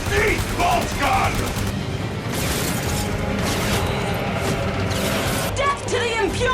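Heavy bolt gun fire in Warframe, loud continuous bursts of chunky shots and impacts layered with explosions and mechanical clatter, with a voice talking over the din.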